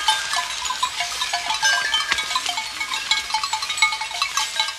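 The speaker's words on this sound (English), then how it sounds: "Mursi cattle come to drink at the river." Mursi cattle gathering to drink at a river in Ethiopia, with goat-like bleats and bell clanks scattered through a dense, steady chorus of insects and birds; the animals sound near to mid-distance, with no talking.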